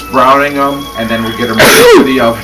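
A single loud, sharp sneeze bursts out nearby in a kitchen where meatballs are being floured and browned, cutting in just after a person's speech.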